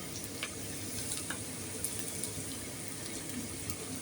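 Sliced onions with salt sizzle and fry in a pan as a steady, dense crackling hiss, with a few faint stirring scrapes near the start.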